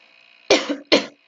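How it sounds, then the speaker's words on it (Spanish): Two harsh coughs close together, the first with a short rasping tail, loud and near against a faint steady hum. "mientras voy tosiendo"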